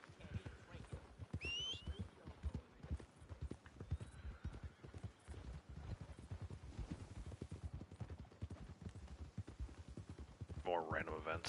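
Horse hoofbeats in Red Dead Redemption 2, a steady clip-clop of trotting hooves running throughout, with a brief whinny near the end and someone talking over it.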